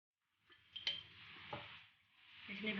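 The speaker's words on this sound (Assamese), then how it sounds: "এইখিনি ভালকৈ লৰাই মই ভাজি লম।" Bread crumbs stirred in a pan with a spoon of ghee give faint scraping strokes and a few light clinks of the utensil, over a soft low sizzle that swells toward the end.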